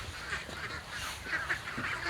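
Ducks being fed freshly harvested azolla and maggots at a farm in Lhoknga, Aceh Besar, with a busy chorus of quacking and honking calls at moderate distance over steady outdoor noise.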